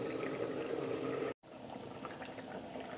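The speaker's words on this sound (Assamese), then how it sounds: "এয়া বইল কৰিব লৈছোঁ এইটো কুকাৰত দিছোঁ" Magur fish curry boiling in a cooker, a steady soft bubbling and simmering hiss held at an even level, briefly cut out before the bubbling resumes.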